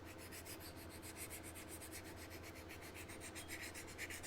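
A smooth old buffing file scrubs back and forth over a scale model to rub out sanding marks, giving quick, even rasping strokes that repeat steadily and sound close but quiet.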